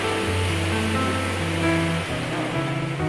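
Sea waves break and wash along the shore at Mandarmani beach, a broad continuous roar of surf, loud and close, with a steady low hum running beneath it.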